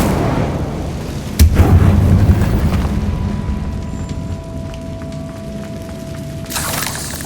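An Incendio fire spell cast in Hogwarts Legacy gives a sharp, heavy burst followed by a fading roar. Quieter game tones ring on afterward, and a second bright flare comes near the end.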